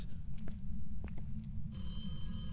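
Telephone ringing in the Phasmophobia ghost-hunting game, a harsh electronic bell trill that cuts in and holds steadily over a low background rumble, with no talking.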